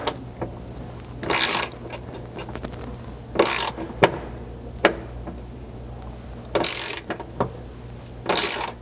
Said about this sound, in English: kind of compressing the knurled edge on that riv nut using our ratchet and socket